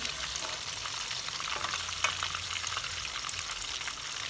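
Banana blossom fritters frying in hot oil give a steady, dense sizzle with crackling pops throughout, close and fairly loud, with a brief sharper burst midway and no voices.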